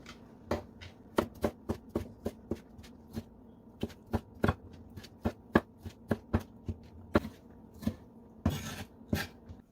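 Knife chopping a seeded tomato into small cubes on a cutting board, a steady run of sharp, close taps in quick, uneven rhythm with brief pauses.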